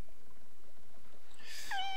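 A single short cat meow from the video game Fire Emblem Engage, rising then falling, arriving near the end after quiet background music.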